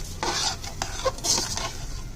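Almond halwa being roasted with sugar and milk in a pan, a close scraping stir with soft sizzling and a few utensil clinks, steady and continuous without talk.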